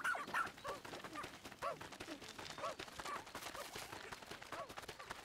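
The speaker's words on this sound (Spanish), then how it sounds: "Como buen perro, Ouchie puede ser entrenado para diferentes habilidades" Dog barking in Pikmin 4: a series of quick, light yips and barks repeating irregularly over a busy game background, fairly faint.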